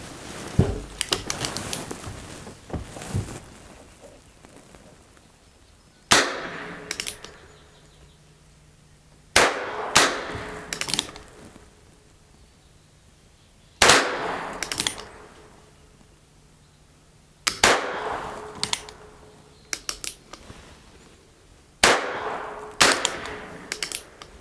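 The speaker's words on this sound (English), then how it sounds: "I'm going to go ahead and take some shots at my target up there while he's taking the shots at his" Heritage Rough Rider and Ruger Wrangler revolvers fire at targets outdoors, with sharp loud shots spaced a few seconds apart, some coming in quick pairs, each followed by a short echo and metallic clinks in between.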